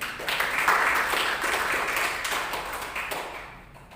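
Church congregation clapping together for Jesus at a worship service, a steady wash of many hands filling a room for several seconds before fading out.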